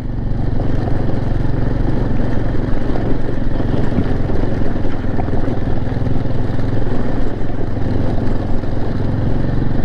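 An off-road motorcycle climbs a gravel forest road through a cedar-lined dirt trail, its engine droning steadily and loudly with continuous gravel crunch throughout, no talking.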